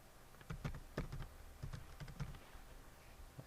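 Password being typed on a computer keyboard: a quick run of about a dozen close, crisp key clicks in uneven bursts, with no talking.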